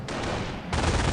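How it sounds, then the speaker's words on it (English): Machine gun fire in the Company of Heroes mobile video game, a dense, continuous burst that rolls on without pause and swells louder near the end, with no voices. "the machine gun pinned them down"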